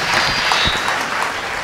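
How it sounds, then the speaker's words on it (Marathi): Loud, dense applause from an audience at a public lecture event in Mauda, continuous clapping close up with a faint crowd murmur beneath. "तर एकदा देवेंद्र भाऊसाठी टाळ्या होऊ द्या जोरदार"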